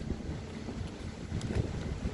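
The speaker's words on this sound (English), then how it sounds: "It's proper windy" Strong wind buffets the microphone in a steady, rough roar, rising in gusts, with no voices.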